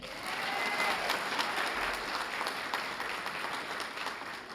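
A steady round of applause from the audience at a police department annual awards ceremony, many hands clapping evenly at moderate loudness for several seconds with no talk over it.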